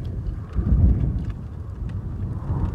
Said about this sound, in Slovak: Je zima, fúka vietor.